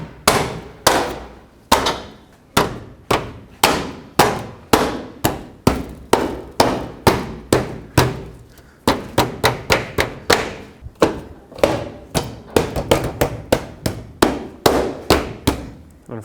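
Red plastic trim piece pressed into the front bumper of a 2007 Chevy Silverado Classic, producing a long series of sharp, loud knocks and snaps in irregular bursts as its clips are forced in, with no talking.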